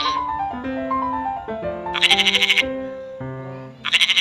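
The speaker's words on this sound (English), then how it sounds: "The answer is goat." A goat bleats in two short wavering bursts, loud and close, over a light melodic tone.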